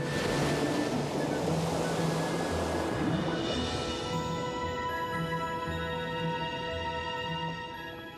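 Ocean surf washing onto a beach in a steady broad rush that slowly eases, with musical tones and faint wind underneath.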